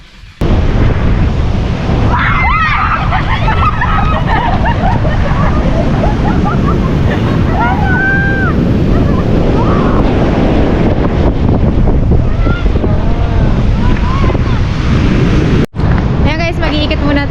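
Seaside at Aberystwyth with heavy wind buffeting the microphone over a continuous roar of sea waves, steady and loud for the whole stretch, with no clear talk.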